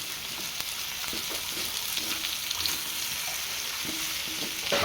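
Sautéed tomatoes fry in a pan with a steady close sizzle, and a spoon stirs through them with soft scraping, no voices.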